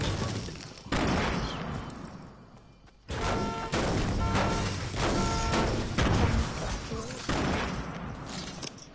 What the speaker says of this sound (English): are you getting shot?